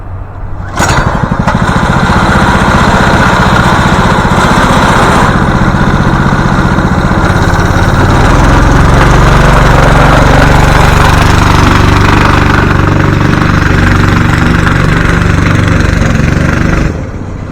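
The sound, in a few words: old school go-kart small engine running during a ride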